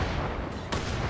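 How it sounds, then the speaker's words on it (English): A grenade blast in Wolfenstein: The Old Blood bursts amid loud ongoing combat noise, a short heavy boom layered over steady rumbling gunfire, with no talking. "My grenades got him"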